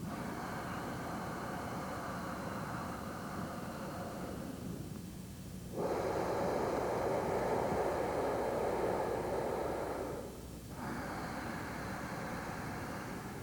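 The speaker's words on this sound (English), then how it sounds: "we want to create a deep, full, resonant sound in the back of the throat." Deep ujjayi breathing drawn through a constricted throat during ashtanga yoga practice: a steady, resonant rushing hiss with two long audible breaths, a brief pause between them, heard close and alone.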